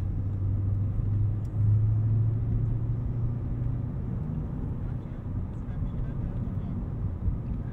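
Cabin drone of a 2001 BMW E39 M5 on a test drive, a steady low engine and road rumble heard from inside the car, continuous and fairly loud, with a brief lower hum swelling early on.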